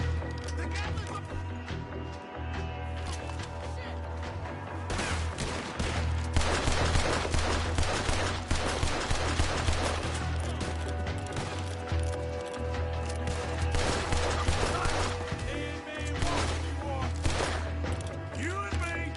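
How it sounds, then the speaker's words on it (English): A Gatling gun firing in a Western action video game, dense rapid bursts of gunfire with mechanical clatter and hoofbeat-like knocks, loud and continuous, with occasional character voices mixed in. "The Gatling gun!"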